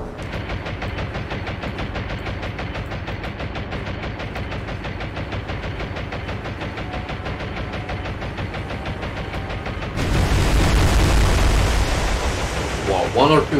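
Bombs, 250-pound high explosives, strike a nearly sunk destroyer in the naval video game War on the Sea, as a dense rattling barrage of fire gives way to a sudden loud, rumbling explosive burst near the end.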